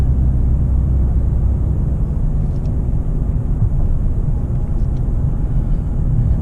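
A car with new tires cruises at speed, giving a steady, loud low road rumble and tire roar that holds constant throughout, with no voices.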